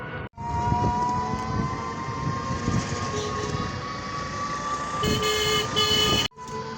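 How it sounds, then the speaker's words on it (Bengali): A train at Keraniganj railway station in Bangladesh gives a steady loud rumble with a sustained tonal hum, and a brief horn-like toot near the end, with no talking. "এটা হলো কেরানীগঞ্জ রেল স্টেশন।"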